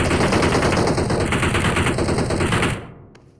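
Loud, continuous automatic gunfire in BGMI (PUBG Mobile) hammers nonstop for almost three seconds at close range, then cuts off abruptly and fades into near silence.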